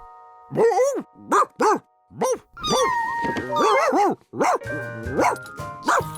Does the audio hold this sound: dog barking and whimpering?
yes